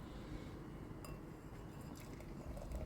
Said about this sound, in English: So let's pour this.